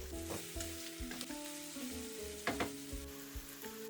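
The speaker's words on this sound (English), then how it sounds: "and continue to saute" Vegetables sautéing in a pan with minced garlic, ginger, dried thyme and bay leaves, a steady close sizzle with occasional louder crackles and stirring knocks, no voices.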